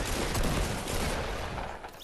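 Video game gunfire, a dense loud burst of rapid shots filling two seconds with no pause and no speech.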